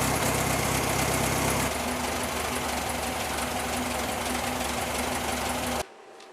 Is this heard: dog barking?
no